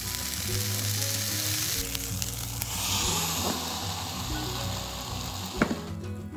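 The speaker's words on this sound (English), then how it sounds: "then heat the waffle iron and lay out our mixture" Waffle batter sizzles and hisses in a hot waffle iron, a continuous frying crackle with faint steam and a couple of soft clicks or taps near the end.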